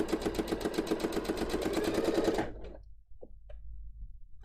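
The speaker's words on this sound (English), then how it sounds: "Okay, it's sewing fine now." A sewing machine runs steadily, stitching fabric with a fast, even mechanical chatter for about two and a half seconds, then stops, leaving near silence broken only by a couple of small clicks.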